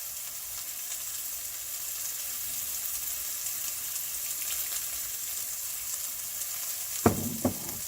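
Soy sauce, about a quarter cup, poured into a hot pan and stirred, giving a steady gentle sizzle throughout, close by, with two sharp clinks of the utensil near the end.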